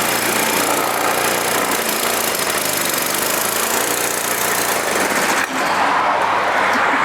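A vehicle engine roars loudly and steadily with a rough knocking chatter inside a tram depot, held at high revs throughout and dipping briefly near the end.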